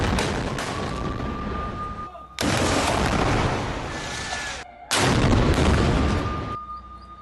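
Heavy, sustained roaring booms of tank and grenade launcher shelling in Gaza, arriving in three long loud bursts separated by brief gaps.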